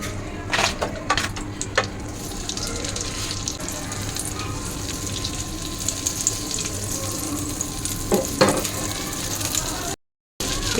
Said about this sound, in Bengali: এই যে এখন বাটার আর সামান্য তেলের ভিতরে আমি চিকেন বানটা দিয়ে দিব।